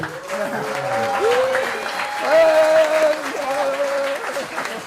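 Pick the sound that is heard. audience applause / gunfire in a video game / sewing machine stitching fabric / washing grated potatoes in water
audience applause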